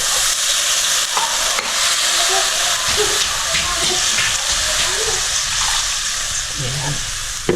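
Water is poured into a hot, sizzling pan while escabeche sauce is being cooked: a loud, steady hiss and steamy frying crackle with stirring, running the whole time under occasional speech.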